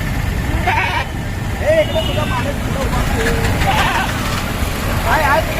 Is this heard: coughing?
no